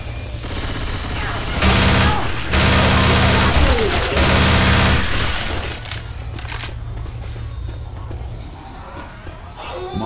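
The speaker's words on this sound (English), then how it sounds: "Going with machine gun." A machine gun fires in sustained, loud rattling bursts in Left 4 Dead 2, heard alongside engine-like rumble and ongoing game noise, with a voice speaking over the action.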